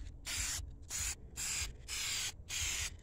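Five short bursts of aerosol spray paint, black coat going onto a car wheel rim for a 1993 Honda Accord CB7, each hiss lasting about half a second with brief gaps, close and clear over faint background rumble.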